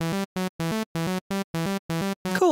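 A synthesizer bass patch from the Pigments soft synth, with a warm analog character, plays a quick staccato melody of about nine clipped notes. Each note is rich in harmonics and cleanly separated by silence, and the phrase ends with a brief swelling sweep.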